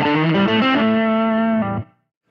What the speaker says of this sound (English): The next setting on the distortion is the fuzz.